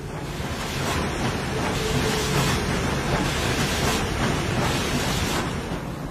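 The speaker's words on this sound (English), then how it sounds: "this train rolls east out of Laramie." A Union Pacific 4000 class Big Boy steam locomotive train rolls east out of Laramie, a dense, continuous rumbling roar of wheels and machinery heard close and loud for several seconds.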